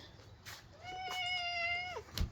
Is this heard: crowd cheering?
no